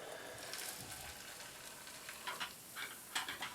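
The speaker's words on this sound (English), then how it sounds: "I'm adding 350 milliliters of boiling hot water" Boiling hot water pours over tree bark in a vessel, a soft steady hiss and gurgle with faint splashes and a few small knocks toward the end, close and quiet, with no talking.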